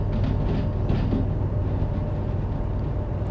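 Train rolling into a yard lane in Derail Valley, a steady low rumble of wheels and cars, loud and continuous with faint clicks, no talk.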